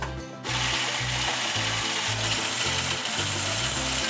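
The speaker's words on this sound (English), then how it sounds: "Whisk until it's fluffy" A lemon mixture is whisked until fluffy. After a brief quiet start, a loud, close mechanical whirring sets in and pulses in a steady rhythm about twice a second.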